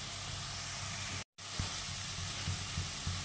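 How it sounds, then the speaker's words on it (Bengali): Onion, ginger and garlic fry in a pan ahead of white mushrooms, giving a steady broadband sizzle with a few soft low clatters, broken by a brief silent gap. "পেঁয়াজ, আদা, রসুন ভাজা হয়ে গেছে, কাঁচা গন্ধ চলে গেছে।"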